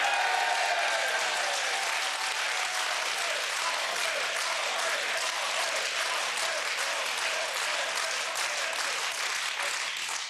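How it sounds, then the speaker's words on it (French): A studio audience on a French-language game show applauds a finalist contestant, steady dense clapping holding at an even level for about ten seconds before cutting off. "André, qu'on peut applaudir"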